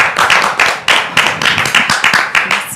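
A church congregation claps together in a fast, steady rhythm to acclaim the Lord, with loud, close, sharp claps running throughout.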